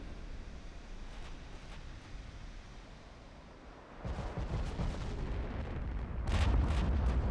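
Warship guns firing in the naval game Ultimate Admiral Dreadnoughts, with distant booming salvos rumbling under a constant sea wash, growing louder and denser toward the end.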